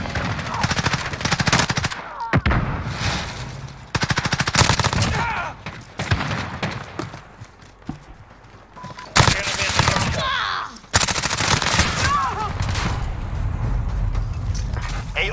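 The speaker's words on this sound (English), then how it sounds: "I'm getting shot through a wall" Call of Duty Modern Warfare gunfire, with dense bursts of automatic weapon fire and explosive impacts loud and close in long stretches broken by brief pauses, while players talk over it.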